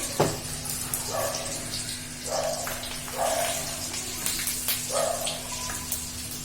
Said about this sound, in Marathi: डाव्या हाताने मसाल्यावर पण ओतून द्यायचं तेल आपल्याला आणि हलवायचे